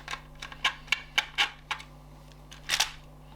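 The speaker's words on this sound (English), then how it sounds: "they're quite long screws, so they need quite a lot of undoing" Long screws are backed out of a Nintendo 64 controller's plastic shell with a small screwdriver, giving a quiet, close series of irregular ticking clicks and faint scrapes in an otherwise still room.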